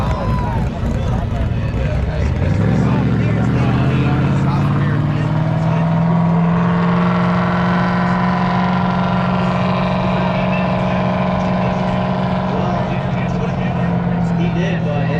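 A drift car at a night drift event revving hard with a sustained, rising engine roar and tire burnout noise, loud and continuous, with crowd chatter and voices beneath it.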